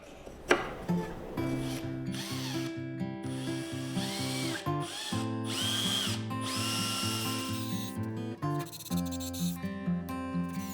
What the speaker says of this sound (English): I'm just going to screw these to the body since they'll be on the bottom